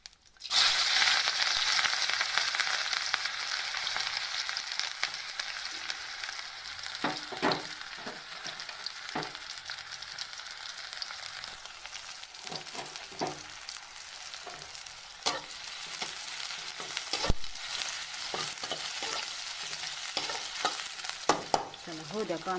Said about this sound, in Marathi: आता मी टाकून घेते ह्यात थोडंसं जिरं, कांदा, हिरवी मिरची आणि लसूण